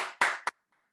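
A few quick hand claps from children at a life-skills movement lesson, a short dense burst followed by one sharper final clap, close and fairly loud, then silence.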